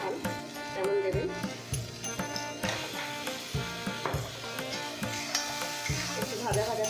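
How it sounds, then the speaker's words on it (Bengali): Purple cauliflower and green peas fry in a pan, with a soft continuous sizzle and frequent clattering scrapes of a spatula stirring, while someone talks over the cooking. "একটু ভাজা ভাজা করে নেবো"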